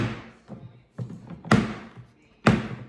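A bread machine lid is pulled shut in a kitchen, producing a few distinct thunks and taps, the last two sharp and loud, spaced about a second apart.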